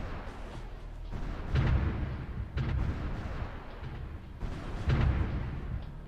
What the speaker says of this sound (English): at least we're firing back on the artillery, just not very efficiently